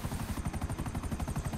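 A helicopter in GTA Online flies low with a rapid, steady rotor thump that pulses evenly throughout, close and loud, with no talking.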